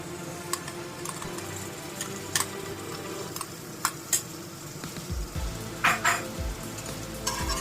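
Ground white mustard paste goes into a pan of frying chital fish curry with softened tomatoes, giving a soft steady sizzle under occasional utensil taps and clinks near the end.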